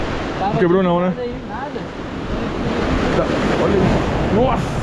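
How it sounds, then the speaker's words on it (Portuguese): Big storm-surge waves crash and roar steadily onto Praia Grande beach in Arraial do Cabo, with loud wind noise throughout and a person talking excitedly over the surf. "Olha o tamanho dessas ondas, galera."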